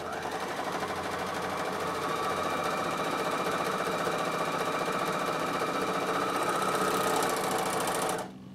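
A Bernina sewing machine runs steadily for about eight seconds, stitching with differential feed engaged so the fabric gathers, its fast mechanical whir close and loud before it stops abruptly at the end.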